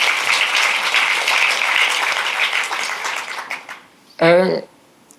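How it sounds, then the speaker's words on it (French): Audience at a human rights film festival panel applauding a team introduced on stage, a broad wash of clapping for several seconds that fades out before a short burst of speech near the end. "on peut les applaudir, là"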